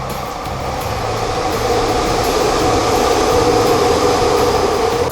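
A passing train rumbles steadily close by, a loud continuous roar of wheels and carriages that builds slightly and holds for several seconds with no talk.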